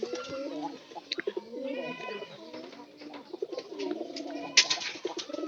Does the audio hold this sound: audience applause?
no